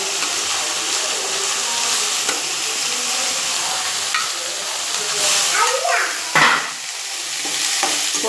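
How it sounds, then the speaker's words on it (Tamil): Sliced bitter gourd sautés in oil in a pan, giving a constant dense sizzle with occasional scrapes and stirring knocks close by. "உப்பு போட்டு கொஞ்சம் நேரம் வதக்கிட்டே இருந்தோம்னா அது கொஞ்சம் நல்லா வதங்கிடும்"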